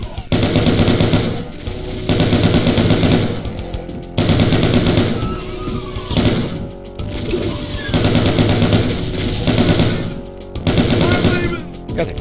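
Rapid gunfire bursts from the Doom 2 video game, loud repeated volleys in clustered rhythm with brief gaps, game sound effects layered over a steady background.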